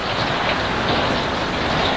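Steady rain falling on a rainy night in a film scene, a dense continuous hiss with no voices.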